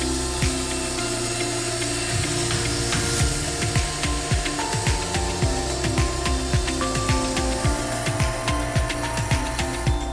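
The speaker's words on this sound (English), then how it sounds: "we had to lift them onto the log saw and cut them into planks and pillars for our stable" A log saw cuts fresh tree trunks into planks, a steady mechanical drone with scraping, rubbing bursts of cutting repeating throughout, moderately close and alone.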